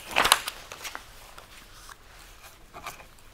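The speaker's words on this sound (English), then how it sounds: "let me write this comment here" Pen scratching out a short comment on paper, a quick burst of close, crisp strokes followed by fainter intermittent scribbling.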